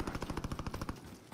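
A quick automatic burst in Warzone, about a dozen evenly spaced sharp shots in rapid rhythm, fairly faint and distant, then stopping abruptly.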